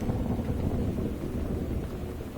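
Thunderstorm ambience in the video game Gone Home, a continuous low rumble with rain and wind noise, steady and moderately quiet with no one speaking.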